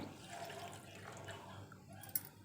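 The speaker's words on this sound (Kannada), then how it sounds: "ನಾನು ಎರಡು ಲೋಟ ಆಗುವಷ್ಟು ನೀರಿಲ್ಲಿ ಆ್ಯಡ್ ಮಾಡ್ತಾ ಇದ್ದೇನೆ" Water is poured into freshly squeezed lemon and ginger juice for a sugar-free sharbat: a quiet, steady trickle and drip of liquid that runs for a couple of seconds at low volume.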